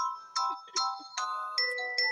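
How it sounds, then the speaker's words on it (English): A mobile phone ringtone plays a repeating melodic jingle of bright electronic tones, several short phrases in sequence, close and clear with no talk over it. "My phone keeps ringing."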